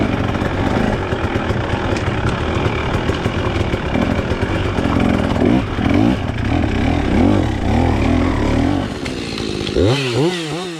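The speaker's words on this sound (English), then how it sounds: "carried this saw around for half the day so we could clear up some of the trails" A chainsaw cuts through storm-fallen trees on a dirt bike trail, a loud, continuous buzzing whine close by that bogs and surges, with a final rising rev near the end.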